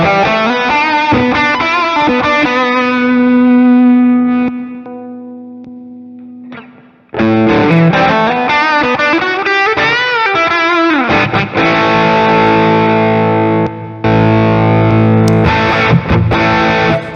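A high-gain Ethos amp model runs through SmartPedal and Proteus neural captures, heavily distorted electric guitar playing sustained chords and bending riffs, loud and close, with a brief drop to near silence midway before the playing resumes.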